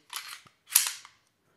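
The slide of a Canik SFX Rival S pistol is racked at a Las Vegas gun show, giving two sharp, close metallic clacks about half a second apart, each a quick back-and-forth snap.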